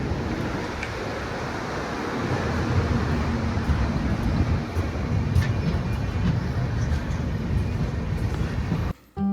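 Kanchankanya Express (13149) running after departing Bardhaman, a steady loud rumble and rattle of the moving train throughout, with a brief dropout near the end.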